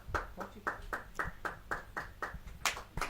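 Scattered hand claps from an audience at a Hindi kavi sammelan poetry gathering, about a dozen fairly regular claps in a steady rhythm, close and moderately loud, with no talk over them.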